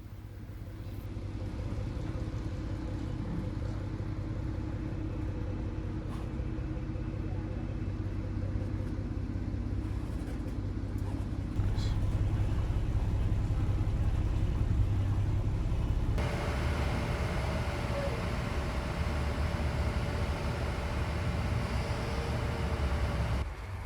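The Silver Gate ferry crossing San Diego Bay to Coronado, a steady low engine rumble and broad wash of water and wind that grows louder and brighter partway through, continuous throughout.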